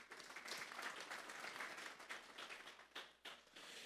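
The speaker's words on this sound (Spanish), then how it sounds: "Vamos a darle un fuerte aplauso pues al Señor." Church congregation applauding together, a loud, dense wash of clapping that fills the clip steadily with a few sharper bursts toward the end.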